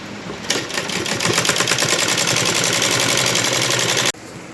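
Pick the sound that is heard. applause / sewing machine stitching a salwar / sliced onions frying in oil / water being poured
sewing machine stitching a salwar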